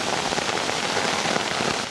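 Rain falls steadily on a forest shelter, a dense, even patter of drops that keeps going without a break and sounds fairly close, with no talking.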